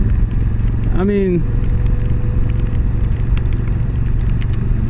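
Motorcycle being ridden, a steady close engine drone mixed with wind rumble, while someone talks over it briefly.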